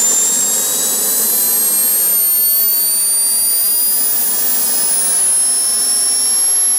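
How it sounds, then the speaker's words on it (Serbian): A small fixed-wing kamikaze drone's jet engine sounds as a steady, loud, high whine with rising tonal lines and a broad roar, running continuously and alone throughout. "Letelica na mlazni pogon sa fiksnim krilima, poznata kao kamikaza, može dostići veliku brzinu."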